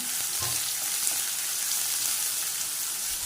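Onion, garlic, green chilli and curry leaves sautéing in oil for a potato masala, giving a constant loud hiss of frying with a few faint knocks of stirring near the start.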